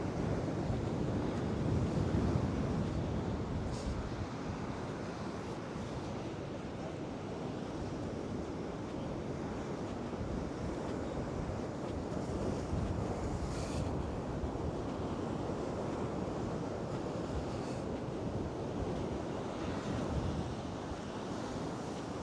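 Sea waves crashing in at high tide during Storm Lilian along a coastal promenade, a steady heavy roar of surf mixed with gusting wind buffeting the microphone, continuous and loud.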